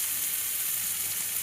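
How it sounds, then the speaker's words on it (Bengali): Onion stalks frying in a pan for a Bengali small-fish chorchori with potato and brinjal, giving an even, loud, continuous sizzle with no speech. "পেঁয়াজ কলিগুলো লাল লাল করে ভাজা যখন হয়ে যাবে"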